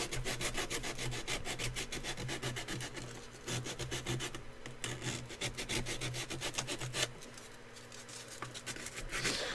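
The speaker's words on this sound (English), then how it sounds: "I'm just roughing up the surface, so it's not like a gloss" Rapid, even strokes of sandpaper scuffing a glossy surface run continuously at close range, a dry rhythmic rasping that steadies, briefly pauses, then resumes, with no voices.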